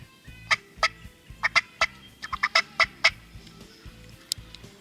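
Several wild turkey toms gobbling in the field during spring season, a run of loud rattling calls in quick bursts from close range, with fainter gobbles answering further off.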